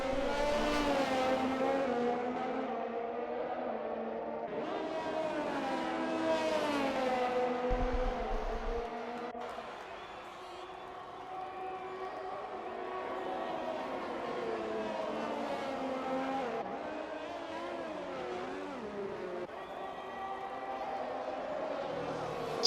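Race cars lap the Singapore street circuit in an iRacing round, engines droning and shifting pitch steadily throughout, with a commentator talking over them.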